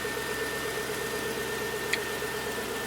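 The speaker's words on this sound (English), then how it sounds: "I'm going to go ahead and turn on my vehicle here" A Hummer H3 engine idles as a steady, even mid-pitched drone with a faint constant whine and one brief tick near the end. No one speaks.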